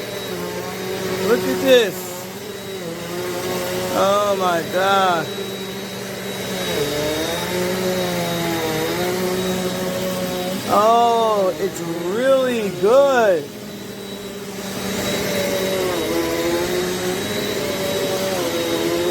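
A Eureka NEU10AE5 bagless upright vacuum cleaner runs steadily on carpet with a continuous whine, close and loud. Its pitch wavers as the head is pushed back and forth, while someone talks excitedly over it.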